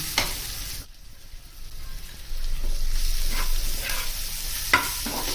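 Spice masala with coriander powder and dry chilli powder sautéing in a pan for a Bengali lote fish fry, a close, steady sizzle with occasional stirring clinks and scrapes, no talk.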